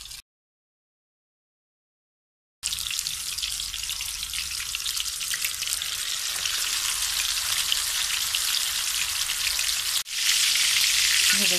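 Peshawari chapli kebabs fry in a pan with a loud, steady, crackling sizzle that starts after a brief silence and continues without a break, with no voices.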